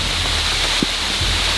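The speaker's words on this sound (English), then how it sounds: "And it's pouring down rain here" Heavy rain pouring down in a Florida swamp, a steady broadband hiss of downpour throughout with a brief thump partway, no talking.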